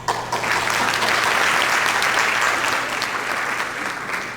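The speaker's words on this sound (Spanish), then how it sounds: "pido un fuerte aplauso para todos" An audience at a forum panel on forced pregnancy and sexual violence against girls and adolescents claps steadily, a dense, even wash of applause that holds for several seconds before easing slightly.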